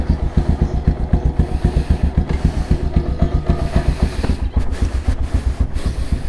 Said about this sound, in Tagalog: Kasi parang pumupugak na tong motor. Parang kinakapos.